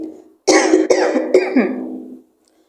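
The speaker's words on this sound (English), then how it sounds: "Everybody coughed again" Several tenants of a shared house cough in quick succession, a cluster of four or five rough, throaty bursts within about two seconds, close and fairly loud, with no talking.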